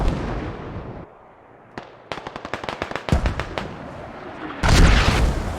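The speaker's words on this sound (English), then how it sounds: "Mortars go down. Hab on Nicola is being mortared." Mortar rounds land in a military shooter game, a loud, close sequence of rapid sharp blasts followed by a heavier booming impact near the end.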